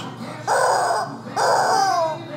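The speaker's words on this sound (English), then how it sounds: "Home of the crazy chickens." Chickens at a rental property give two loud, drawn-out squawking calls in a row, close by, each lasting about half a second to a second with a short pause between.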